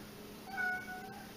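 A cat meows once in a short, fairly faint call, indoors in a home basement, with no talking over it.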